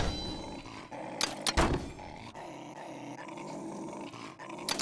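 A space dog in the virtual reality combat game Gorn gives a low, rough growl amid noisy surroundings, with a couple of louder bursts near the start.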